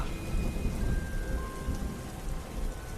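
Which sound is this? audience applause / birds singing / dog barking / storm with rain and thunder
storm with rain and thunder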